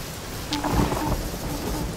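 Rain hissing steadily with a low rumble of thunder swelling briefly in the middle, moderately loud and alone without talk, heard during a video game.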